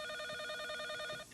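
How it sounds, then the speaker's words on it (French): A telephone rings with a bright, tonal electronic trill, repeating rapidly and steadily, heard fairly close and alone with no talking. "le téléphone qui sonne"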